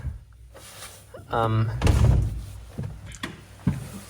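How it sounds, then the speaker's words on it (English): The doors of a Renault Twizy electric microcar swing shut with a couple of dull thuds and a later soft knock, close by, while a person talks over them. "Close the doors so"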